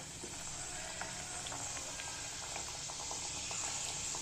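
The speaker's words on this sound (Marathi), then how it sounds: "आता तेल तापल ठेवते कढईत आता हे तेलाला ना उकळी आलेली हे बघा बबल्स आलं आहे" Hot oil in a kadhai bubbling steadily over a low gas flame while khari pastries fry, a soft continuous sizzle with scattered small pops, close and fairly quiet.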